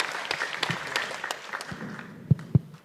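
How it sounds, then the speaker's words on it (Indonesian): Scattered audience applause for a quiz team at a provincial final of a school knowledge competition, light and uneven clapping that thins out, with a couple of sharper claps near the end. "Namun sebelumnya boleh beri tepuk tangan untuk grup C."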